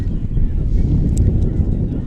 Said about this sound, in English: It is incredibly windy at this current moment